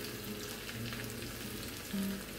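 Crushed chilli sizzles and crackles softly in hot oil with curry leaves for a ripe mango curry, a steady low frying hiss with small pops, no talking.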